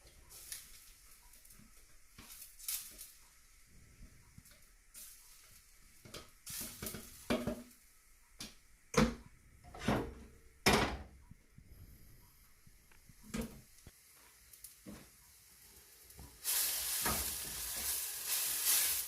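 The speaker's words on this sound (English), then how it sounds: "add your paste in first that you made, which is just blitzed onion and garlic" Paste of blitzed onion and garlic fries in a pan for a curry, with faint sizzling broken by stirring scrapes and knocks, and a louder burst of hiss near the end.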